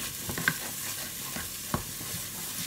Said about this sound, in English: Onion's been frying for a few minutes now. I'm just going to add the garlic in.